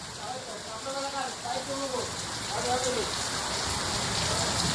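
Heavy unseasonal rain pounds down in Mangaon, a dense, steady roar of drops on surfaces that builds slightly, while voices talk faintly underneath.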